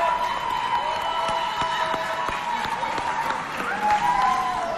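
An audience at a neighbourhood youth holiday event applauds a young singer after the national anthem, with moderate clapping and cheering beneath prominent talk and musical tones.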